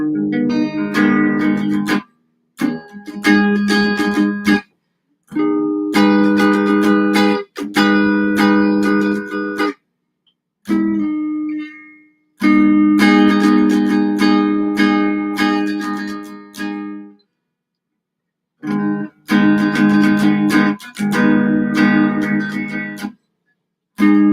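Intermediate guitar practice: chords are strummed one after another, each ringing for a second or two before brief silences, played loud and close.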